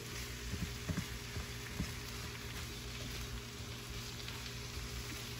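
Vegetables for a quiche sauté in a pan, wilting as they cook, with a steady, fairly faint sizzle and a few soft stirring knocks early on.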